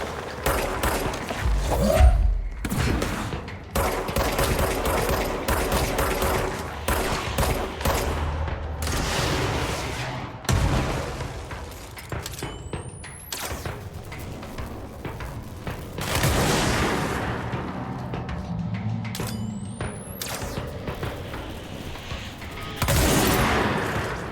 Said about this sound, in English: It shoots on its own after a certain amount of time.